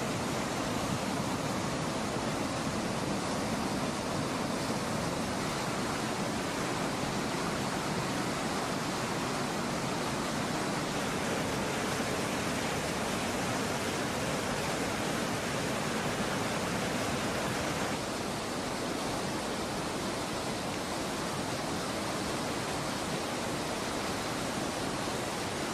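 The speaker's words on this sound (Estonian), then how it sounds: "Lubjakivist joastangust allavoolu moodustab jõgi kärestiku, mis langeb paarisaja meetriga kuni 5 meetrit." River rapids rush below a limestone waterfall step in Lahemaa, a dense, constant roar of falling and churning water that stays loud and unbroken throughout.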